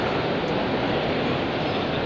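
A modified Ford Anglia fitted with Mazda 323 Turbo 1600 running gear runs at a restoration show, giving a loud, steady, broad mechanical roar with no break, close by and alone.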